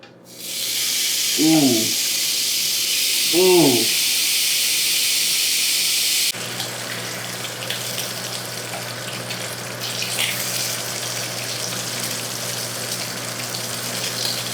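Bacon hits a hot pan with a loud, broad, hissing sizzle that holds for several seconds and then settles into a quieter, steady frying hiss; a voice gives two short exclamations early on.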